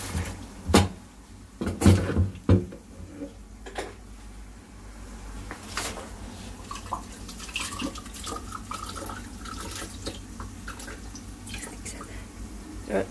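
Carrots and turnips being rinsed by hand in water for Moroccan couscous, with splashing, sloshing and a few knocks of a bowl or pot, close and uneven, a low constant hum underneath.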